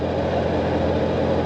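Porsche 911 with a 2.2-litre engine pulling steadily in fourth gear under 3,000 rpm, a constant low, slightly lumpy drone with road noise and no talk.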